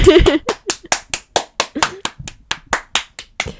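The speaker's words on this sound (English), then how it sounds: "Everyone take a round of applause." One person claps by hand, about fifteen sharp, close claps in a quick, slightly uneven rhythm, each distinct with short silences between, after a brief bit of voice at the start.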